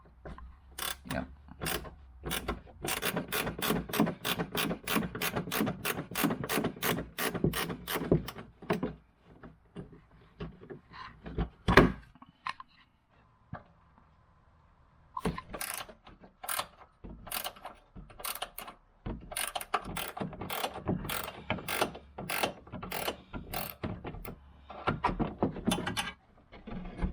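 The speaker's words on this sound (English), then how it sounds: "if you get a speed wrench, that is the way to go on this." A speed wrench loosens a 10mm bolt tucked under the wheel-well liner of a Challenger R/T during a sway bar install. It gives fast trains of sharp ratcheting clicks, pauses briefly with a faint thud, then starts rapid clicking again.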